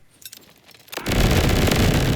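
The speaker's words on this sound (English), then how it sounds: "This is the secondary explosions in action." Grenade secondary explosions in Borderlands 4 set off a loud sustained roar of blasts and crackling bursts that erupts after a second of quieter game sounds and keeps rumbling to the end.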